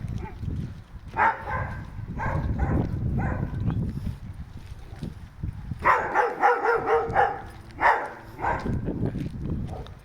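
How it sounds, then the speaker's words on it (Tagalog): Several dogs bark in bursts around a residential neighborhood in the Czech Republic, some close and some farther off, with quieter stretches of scuffling and background noise between the volleys. "Halos lahat ng bahay dito may aso."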